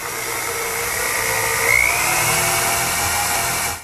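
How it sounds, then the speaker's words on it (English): A power drill with a 1/4 inch brad point bit whirs steadily for several seconds, a continuous high-pitched spinning tone boring into wood, close and loud, then cuts off. "I've marked out the location where I have to drill the holes"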